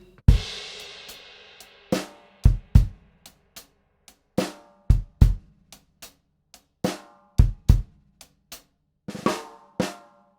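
Drum kit groove from a grade 3 lesson piece, played mezzo forte, with snare hits, hi-hat ticks and kick drum in a steady pattern, ending with a busier flurry, played close with no talking.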